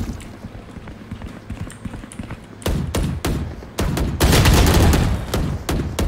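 Gunfire in the shooter game Valorant: bursts of shots crack out over steady game ambience, growing denser and louder toward the end with rapid sustained volleys.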